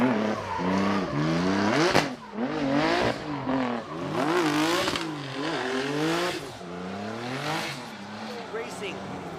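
A drift car at Formula Drift Japan comes into the outside zone too fast and over-rotates, its engine revving and tires squealing loudly and continuously under an excited commentator's voice.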